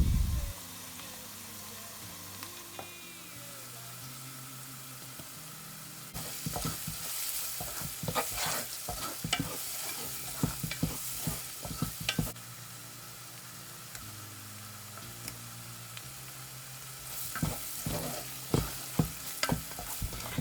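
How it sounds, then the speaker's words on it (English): Onions fry in a pan with chili pepper, curry, nutmeg and a stock cube for jollof rice, a steady hiss of sizzling under repeated scraping stirs in bursts, close and without talk. "When your onion is halfway done, you add your spices."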